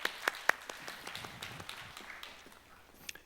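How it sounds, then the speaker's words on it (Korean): A church congregation at a youth service claps in a quick burst of sharp, close claps that thins out into scattered applause. "하나님께 영광의 박수 올려드리겠습니다."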